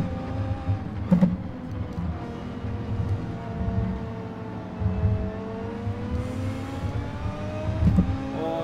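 A Mercedes-AMG race car engine in the video game Gran Turismo 7: a sustained droning engine tone rises and falls through gear changes, with a few sharper transient knocks along the way.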